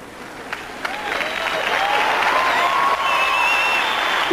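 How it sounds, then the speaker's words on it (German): An audience claps at a David Copperfield magic show. Applause swells from a few scattered claps into a dense, sustained ovation that fills the room, with faint crowd voices and whistles mixed in. "Give her a big round of applause."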